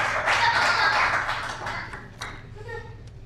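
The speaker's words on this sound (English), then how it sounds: "Let's give a brother Jesse Wiley a great round of applause there." An audience applauds poet Jesse Wiley at a poetry reading at the Bayview Branch Library: a dense, steady wash of clapping that gradually thins and fades, with a few voices mixed in.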